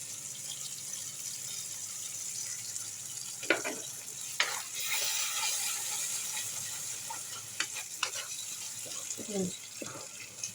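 A paste of poppy seeds, melon seeds and cashews is added to hot oil for a prawn dish, giving a soft steady sizzle with a few sharp clatters and scrapes of the spoon, close and fairly quiet.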